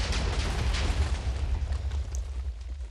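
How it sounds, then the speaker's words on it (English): Sulfur cube TNT blast in Minecraft, a broad rumbling boom with sustained low roar and crackle lasting the whole stretch, loud and close with no talk. "But the sulfur cube explosion is satisfying."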